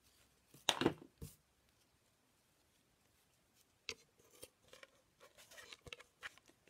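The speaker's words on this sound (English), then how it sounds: "I'm going to trim that because I want a better edge" Scissors trimming a fabric edge while quilting, giving a few quiet, close snips and rustles separated by near silence.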